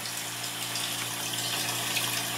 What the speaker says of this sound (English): The water is pouring in there.